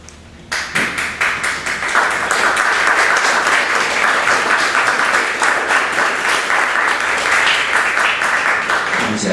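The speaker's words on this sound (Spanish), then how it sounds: "Muchas gracias por los aplausos a Octavio Paz" An audience at a lecture on Octavio Paz's poem "Piedra de Sol" claps after a poetry reading. The applause starts sharply, swells into loud, dense, sustained clapping and carries on steadily to the end.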